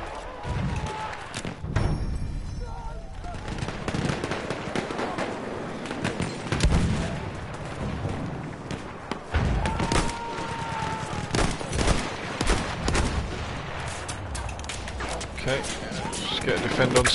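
Dense machine gun fire and battlefield explosions in Battlefield 1, continuous and close, with a player talking throughout over the shooting.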